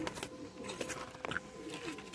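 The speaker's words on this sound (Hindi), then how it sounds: "ये चीखे मारते हैं ना ये कबूतर" Kasuri pigeons calling, a few faint cooing and harsh cries from nearby birds over quiet background noise.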